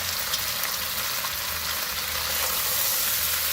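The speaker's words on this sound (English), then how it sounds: "I do like to grab some of my onions and garlic that I've chopped up and get a little browning on them too." Chopped onions and garlic browning in a pan with beef for barbacoa, giving a steady, close, loud sizzle that holds even and unbroken throughout.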